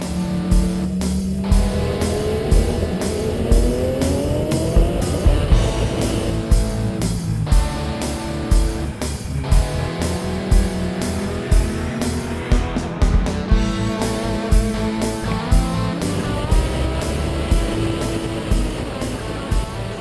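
Porsche 997 GT3-RSR race car with paddle-shift gearbox on an installation lap, engine note loud and close, revving up and down through repeated gear changes over twenty seconds with no talk.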